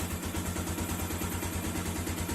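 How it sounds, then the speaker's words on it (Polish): A Romet K125 FI fuel-injected motorcycle engine idles with uneven, slightly low revs, a steady close mechanical thrum with a pulsing low rhythm running through the whole stretch, no talking over it. "ma troszkę takie nierówne obroty, trochę tak za niskie, pokażę Wam zresztą tak."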